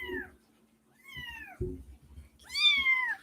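Tiny newborn kittens, about a week old, give high, thin meows, three clear cries spaced apart, close by, with soft shuffling and bumps between them.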